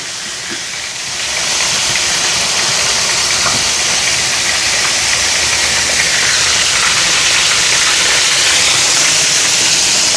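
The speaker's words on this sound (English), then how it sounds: "I want them to just take their time and just fry properly." Chicken frying slowly on a turned-down stove gives a steady, loud broadband hiss and sizzle that swells in after the first second and holds evenly to the end, with no speech.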